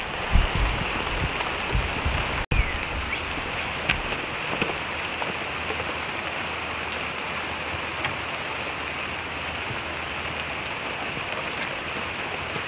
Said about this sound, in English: And it's starting to rain, so I gotta hurry